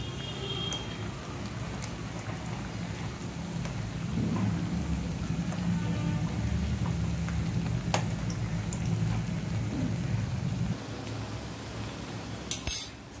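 Semolina frying in ghee, a soft continuous crackling sizzle at low level with a low rumbling undertone, then a brief metallic clink of a utensil near the end.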